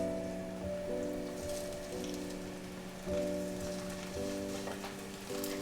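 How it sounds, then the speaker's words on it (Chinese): Tofu skin rolls fry in oil in a pan, laid open side down, giving a steady, even sizzle that carries throughout beneath sustained tonal background music. "锅内放入适量的油，把豆包卷放进来煎，记得开口处要朝下"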